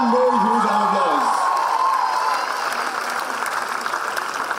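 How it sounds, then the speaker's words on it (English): An audience applauds and cheers for a university choir after a performance, broad crowd clapping sustained throughout, with a lingering sung or held voice fading out at the start. "Please give them one more huge round of applause."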